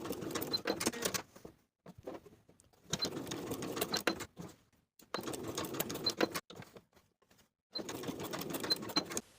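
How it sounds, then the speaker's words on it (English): A sewing machine runs in four steady bursts with pauses between them, basting tie pieces for a blouse at a long stitch length, its close mechanical whir alone. "Baste each of your tie pieces in place with your longest stitch setting and a 1/4 inch seam allowance."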